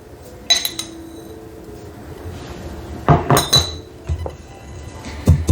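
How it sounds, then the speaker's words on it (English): Sesame seeds, two teaspoons each of white and black, go into a mortar and pestle, making a few brief clinking and tapping sounds with short pauses between them, close and moderately loud. "taking 2 teaspoons of white sesame seeds goes into my mortar and pestle, and 2 teaspoons of black sesame seed"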